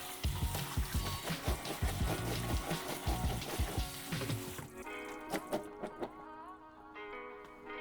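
Soaked cashews are rinsed under a running kitchen tap, with water splashing steadily over them in a sink up close and then thinning to a lighter trickle.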